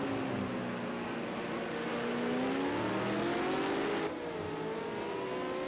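V8 Supercars racing at Ruapuna Park in a sim racing game, several engines droning and revving together as the cars pass in a line, loud and continuous, with pitch sweeping up and down through gear changes.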